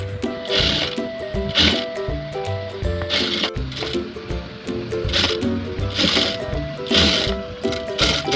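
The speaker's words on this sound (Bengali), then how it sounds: "এখন নিচে যে পার্টটা আর বডির পার্টটা আমি গোল করে সেলাই করে দিচ্ছি" A sewing machine stitches the gathered skirt of a square-design frock round onto the bodice, its needle running in repeated bursts with short pauses, steady and close.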